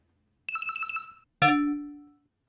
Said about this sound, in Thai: มีคนโทรเนี่ย